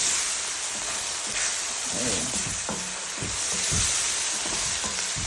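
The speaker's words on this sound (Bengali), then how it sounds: "মশলাটা ভাজতেছি, আমি কষাচ্ছি।" Spices and chicken frying in a pan while being stirred, a loud steady sizzle with irregular scraping and clattering strokes, close up with no talk.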